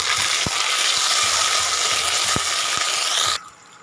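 Ginger paste hits hot oil with whole five-spice seeds for khichuri, a loud dense sizzle with a few soft stirring knocks, dropping abruptly to a quieter fry near the end.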